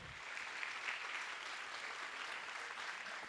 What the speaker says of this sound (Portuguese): Palmas para o Jorge, por favor